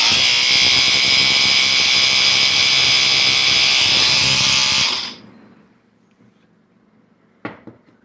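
A KickenAid mixer whirs loudly and steadily as it stirs peachick food in a canning jar, then cuts off abruptly, leaving near silence broken by a brief clack.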